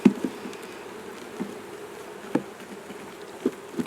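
Honey bees buzz around an open hive as frames are inspected during a queen release. A steady, fairly soft drone continues throughout, broken by a few faint knocks and taps.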